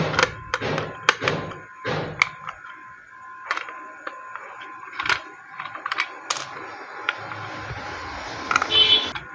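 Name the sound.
opening an electrical board and removing its screws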